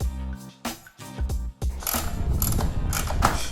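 A ratchet snugs down bolts on a CNC aluminum fender eliminator on a Yamaha: quick bursts of sharp, close clicking, with short pauses between them.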